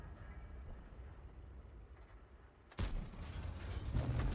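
The main gun of a Kanonenjagdpanzer tank destroyer fires in a video game. One sudden loud blast breaks a low background hum and leaves a heavy rumbling tail.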